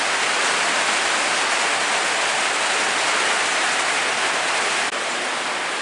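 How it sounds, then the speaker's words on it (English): Steady rain falling outdoors, a dense, even hiss that stays loud and unbroken for several seconds with no voices. "Too bad it's raining."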